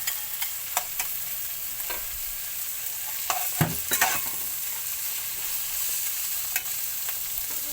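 Pork innards are sautéed with garlic and onion in a pan for bopis, giving a steady sizzle broken by occasional stirring scrapes and clinks close by.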